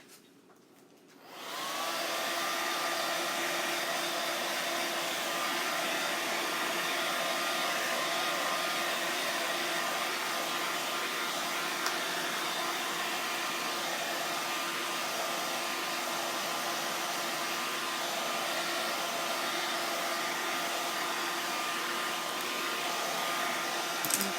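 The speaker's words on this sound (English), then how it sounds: "where's my blow dryer?" A handheld blow dryer switches on after a brief quiet moment and then runs with a steady, close, whirring roar, unchanging for the rest of the stretch, used while drying paint on a canvas.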